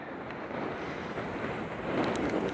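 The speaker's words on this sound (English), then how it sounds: "Windy, alright." Wind gusting outdoors at Vasquez Rocks, a steady broadband rush buffeting close to the microphone with no voices.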